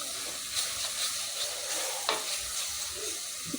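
Masala for chilli dal gosht being sautéed and stirred in a pan, giving a steady low sizzle with occasional scraping strokes, close and alone with no talk.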